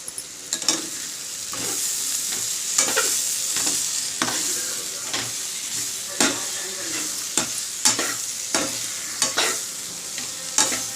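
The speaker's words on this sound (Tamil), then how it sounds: "வதங்கட்டும் பாவக்காயை இந்த ஸ்டேஜில் ஒரு அஞ்சு நிமிஷம் நல்லா மூடி போட்டு மூடி வச்சுருப்போம்" Sliced bitter gourd sizzling and frying in a pan, stirred steadily with a spoon that scrapes and knocks against the pan in frequent sharp taps over a constant hiss, close and without speech.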